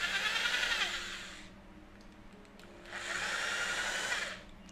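A Bosch hammer drill runs in reverse in two steady bursts, each about a second and a half long with a quiet pause between. The whine is close and even, and no one talks.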